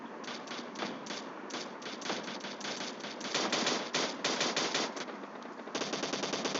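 Pistol fire in a multiplayer shooter video game: rapid, closely spaced sharp cracks in quick irregular bursts, fairly loud and up front, with no voices heard.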